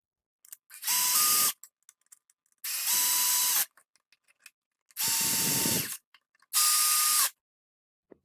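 A Picote Smart Cutter sewer pipe cutting machine, fitted with a front plate and drilling head, runs at increased speed in four loud, even bursts of roughly a second each, separated by short quiet gaps.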